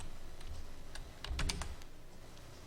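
Quick bursts of clicks from a computer keyboard as text is typed into a PowerPoint slide, a short cluster of close keystrokes in a quiet room.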